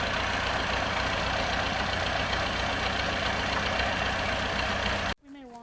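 A Massey Ferguson tractor engine runs with a 3-point hitch auger, a loud, steady close-up rumble that holds for about five seconds before cutting off abruptly.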